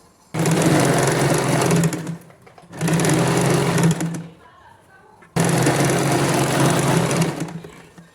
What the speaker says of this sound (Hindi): अब हम साइड में जो हमारी साइड की फिटिंग वाली सिलाई है वो लगाएंगे।